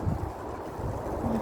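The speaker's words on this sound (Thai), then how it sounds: "ลมมาวีวีเลยวะ" Wind buffets the microphone in a continuous low, gusty rumble, fairly loud and steady, with no voices.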